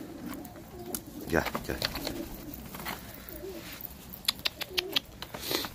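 Pet birds in an indoor bird room give low, soft, repeated coos close by, followed near the end by a run of sharp clicks and chirps, with a brief spoken word from a person.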